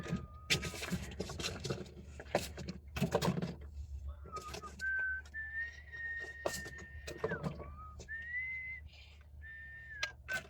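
A person whistles a tune in quiet, wavering notes while arranging merchandise in a small shop, with intermittent soft clatter of goods being handled nearby.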